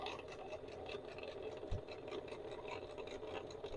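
A sewing machine stitches quilt binding with a quiet, steady whirring hum and one brief thump partway through.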